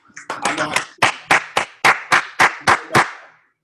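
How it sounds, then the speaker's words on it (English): A man claps for himself: after a short burst of talk, about eight sharp, evenly spaced hand claps ring out close by in a steady rhythm. "I give my own self my claps."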